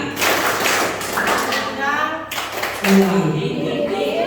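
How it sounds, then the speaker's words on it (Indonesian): Junior high students at a student council leadership training clap together in a loud, patterned spirit clap, with chanting voices over the claps in a room. "Tepuk semangat."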